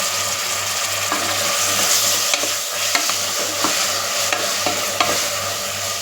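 Chopped tomatoes sauté in a hot pan with a continuous oily sizzle, broken by the scrape and clack of a spoon stirring against the pan at irregular intervals, with a low hum underneath.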